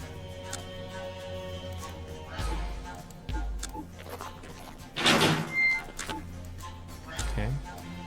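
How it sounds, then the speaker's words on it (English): A door being opened by hand in a tactical shooter video game, producing several low thuds and a sliding scrape with a few clicks, heard under a quiet voice speaking. "we're going to hand open the door instead"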